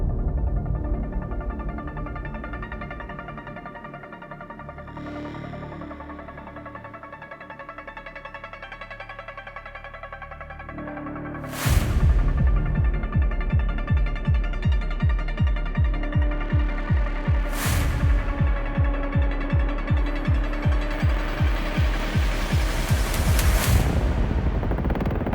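Intro of an orchestral trap track: a quiet, sustained orchestral opening gives way near the midpoint to a loud, steady pounding trap beat with rapid repeated hits and occasional bright crashes, alone with no voices.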